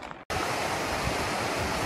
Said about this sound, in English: This is actually the same creek that is forming Bear Creek Falls.